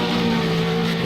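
A Formula Renault 3.5 race car on a hot lap at Laguna Seca, a loud, sustained high-revving engine whine that holds steady with no break, without any talking.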